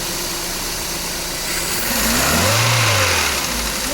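Peugeot 406 with a faulty AL4 automatic transmission, its engine heard up close over a rough idle, rising into a brief rev midway and then easing back down, with steady broadband mechanical noise throughout.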